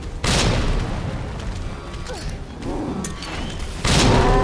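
Grenade blasts in Resident Evil 2 Remake, a loud booming explosion with a long rumbling tail, then a second heavy blast near the end, alone and very close.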